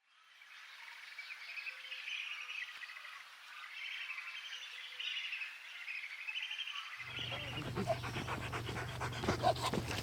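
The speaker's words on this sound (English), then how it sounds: "Dogs trained for tracking traces" A tracking dog panting rapidly and steadily in Akagera National Park, Rwanda, close and rhythmic, with birdsong chirping throughout and a low rumble joining partway through.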